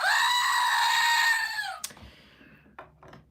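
A long, loud, piercing Wilhelm scream sound effect holds steady, then cuts off abruptly, leaving a few faint clicks and thumps in near quiet.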